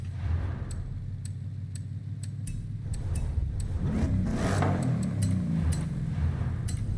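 A turbocharged car engine in Forza Horizon 5 revs and builds steadily, its low drone swelling midway, with sharp ticking clicks scattered above.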